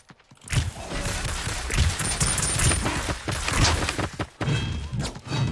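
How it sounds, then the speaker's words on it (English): Rapid gunfire from the online battle royale game Realm Royale comes in dense, loud bursts of shots and thuds, with a short quiet gap partway through. "I'm getting shot at by like 2 different people."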